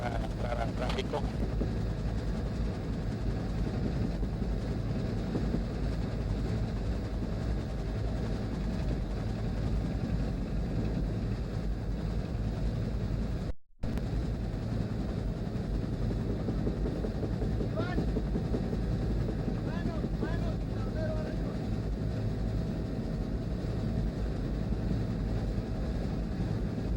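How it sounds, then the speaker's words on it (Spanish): Helicopter HK 1359 drones steadily in flight, a continuous low engine and rotor hum that fills the whole stretch with only a momentary dropout midway, with voices heard over it. "HK 1359 es la matrícula de un helicóptero"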